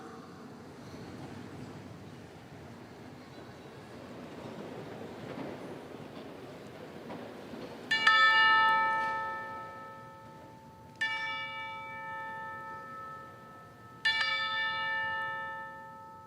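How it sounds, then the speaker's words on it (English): A single bell rings three times at slow, even intervals during a Memorial Day remembrance at a high school graduation ceremony. Each clear, ringing strike is followed by a long fading tone, heard over a steady hum of room noise. "as a bell rings in their honor."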